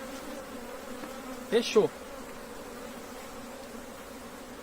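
Honey bees hum steadily around an open hive being split into a new box at an apiary, a continuous low drone with a short louder burst midway, then a brief spoken word.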